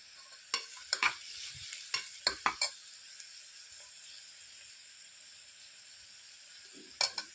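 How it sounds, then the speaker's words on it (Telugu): Sambar powder frying in oil in a pan, a steady high sizzle with several sharp spoon scrapes and clinks against the pan, close and with no voices. "సాంబార్ పౌడర్ వేసి బాగా వేగనివ్వాలి"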